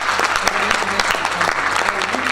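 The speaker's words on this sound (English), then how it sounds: "A round of applause." An indoor audience gives a short burst of hearty applause, dense clapping close by that carries on steadily for a couple of seconds.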